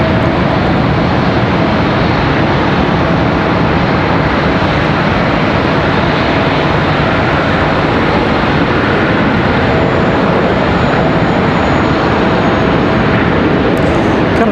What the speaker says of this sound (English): Another Contour Airlines E1 ERJ departing there.